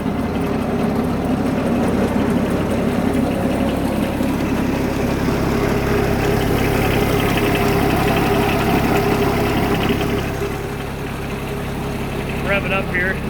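A John Deere X748 lawn tractor engine runs steadily with a snowblower mounted on the front, a continuous close mid-low drone that dips slightly near the end, with a voice talking over it.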